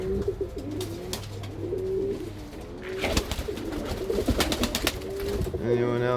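Pigeons coo steadily inside a loft, with soft overlapping calls and a few wing flutters, while someone talks over them.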